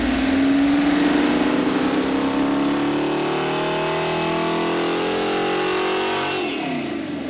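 Small-block V8 built from catalog parts running on a dyno, a loud sustained roar that climbs steadily in pitch as it revs under load, then eases off near the end.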